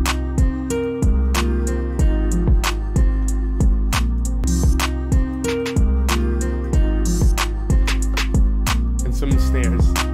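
An FL Studio beat with the flute line dropped an octave plays loud and full, with punchy kicks, crisp snares and hats in a steady groove under a layered melodic part, no voices.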